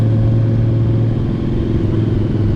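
Honda Goldwing motorcycle cruising alone on a winding mountain road, a steady, loud low engine drone with wind rumble that holds even throughout, no voices.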